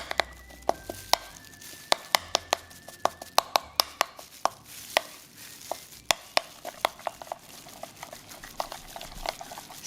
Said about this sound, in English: So once you've combined and broken down your chipotle pod into your mayo